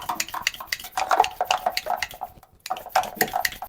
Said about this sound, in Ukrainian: Посипаємо і будемо колотити. Зараз у мене маленька колотилочка моя.